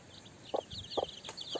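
A broody hen clucks while guarding her chicks, giving three short, separate clucks spaced evenly apart, close by, with faint higher chick peeps running behind them.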